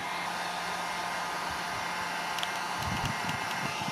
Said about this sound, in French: Bon, le problème du pistolet à air chaud c'est que finalement ça risque de tout faire fondre.